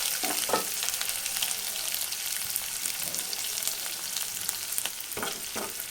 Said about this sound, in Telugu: ఉల్లిపాయలని దోరగా వేయించుకోవాలి